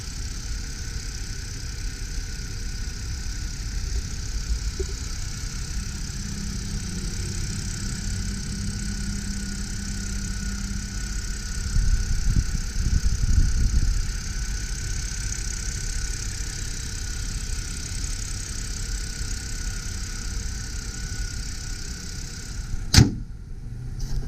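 A 2006 BMW 330i Sport E90 with a 6-speed manual idles in a smooth, steady, quiet hum, with a brief swell midway and a faint click near the end, with no talk.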